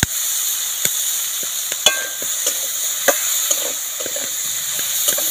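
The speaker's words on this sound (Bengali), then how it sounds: "অল্প আঁচে নাড়তে নাড়তে আলু আর ফুলকপিটা খুব ভালো করে সেদ্ধ হয়ে যাবে" Potatoes and cauliflower with salt and turmeric fry gently over low heat under a constant soft hiss, while a spoon scrapes and taps the pan in scattered sharp knocks, close and free of talk.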